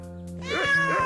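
A single cat meow, rising then wavering and drawn out, close and clear over a faint low hum.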